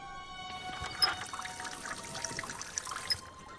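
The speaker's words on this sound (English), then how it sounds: "I can open the water tap." A water tap opened in The Raven video game, a soft steady stream of running water pouring and trickling for several seconds, faint and alone.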